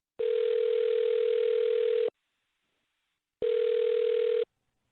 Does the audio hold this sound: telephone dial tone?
yes